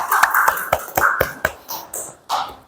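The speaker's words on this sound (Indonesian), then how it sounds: "Tepuk tangan dulu untuk kita sekali" Small group clapping hands together in a teacher training session, a short run of sharp, fairly loud claps in a quick uneven rhythm that trails off after a few seconds.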